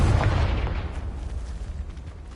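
A Confringo fire spell explodes in the Hogwarts Legacy video game: a loud, broad blast with a deep low rumble right at the start, fading gradually into a sustained roar over about two seconds.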